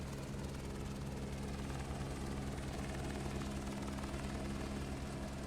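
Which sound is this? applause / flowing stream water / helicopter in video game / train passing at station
helicopter in video game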